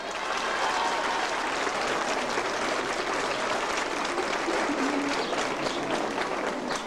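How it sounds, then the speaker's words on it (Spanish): A crowd claps in sustained, dense applause at a secondary school graduation, holding at an even, loud level for several seconds. "Brindemos por favor a todos ellos un fuerte aplauso."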